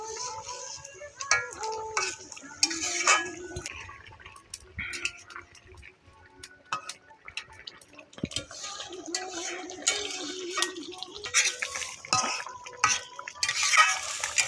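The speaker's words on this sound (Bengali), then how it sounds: "একটু নাড়িয়ে নেবো।" A spoon stirs mrigal fish curry with potatoes and lentil dumplings and a ground cumin, chilli and garam masala paste in a pot, with scraping and clinks against the metal, soft wet sloshing and a faint sizzle, fairly quiet.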